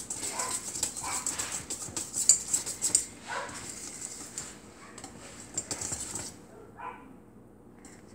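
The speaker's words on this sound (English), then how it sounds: "Ignore the dog barking." A dog barks repeatedly from a short distance, sharp yaps scattered over a few seconds among light clinks and kitchen clatter.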